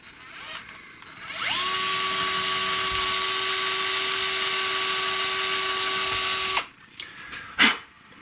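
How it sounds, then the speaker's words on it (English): A power drill whines up and runs at a steady high pitch for about five seconds while drilling a pilot hole in a Fender Telecaster's maple neck, then winds down, with a couple of faint clicks after. "Just a little pilot hole to help the screw, help the drill bit."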